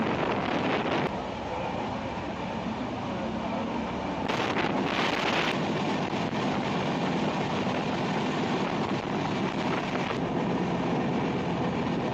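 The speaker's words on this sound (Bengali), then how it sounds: "আমাদের ট্রেনটি অবশেষে মাওয়া রেল স্টেশনে এসে পৌঁছালো" A passenger train on the Dhaka to Mawa line rumbles steadily along at night, a constant loud roar heard from on board with gusting wind buffeting the microphone throughout.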